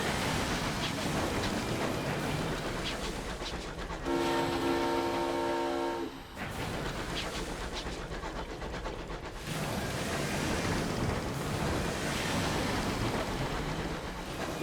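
An airborne steam train's whistle sounds in the Sunless Skies game, one long steady tonal blast held for about two seconds, set against a continuous rumbling, rushing rail-like roar that runs throughout.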